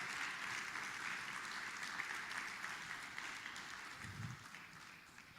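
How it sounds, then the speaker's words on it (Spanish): A church congregation keeps up steady, dense applause for several seconds, moderately distant and slowly tapering off, with no talking over it. "Dale un aplauso, vamos, dale un aplauso"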